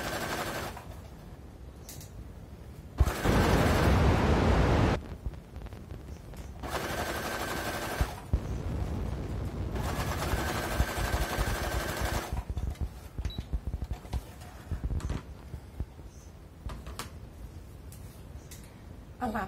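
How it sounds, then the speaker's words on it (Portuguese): Sewing machine stitching a seam through the lining of a school pencil case, with three loud, fast rattling runs of needle strokes separated by quieter handling pauses. "Vamos passar uma costura aqui, então."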